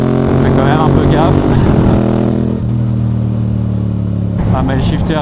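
A Yamaha R7 motorcycle accelerates hard, its engine note climbing and dropping in sharp steps as the quickshifter bangs through gear changes, loud and close, with a voice speaking over the riding.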